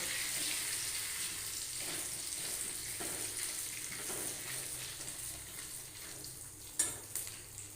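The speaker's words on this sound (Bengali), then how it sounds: "2 চামচ গোটা মৌরি, গ্যাস বাড়িয়ে দিলাম। এটা একটু ভাজা ভাজা হোক।" Two spoons of whole fennel seeds fry in a pan over a raised gas flame, a soft, steady sizzle with faint stirring and one sharper knock near the end.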